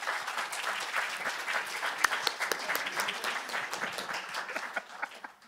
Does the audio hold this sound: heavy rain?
no